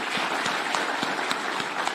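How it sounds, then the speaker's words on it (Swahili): Audience applause at a presidential speech at the opening of Talanta Plaza in Kenya, a steady wash of clapping from a crowd lasting about two seconds, fairly even in level with a few sharper claps standing out. "Tafadhali tumpigie makofi tena"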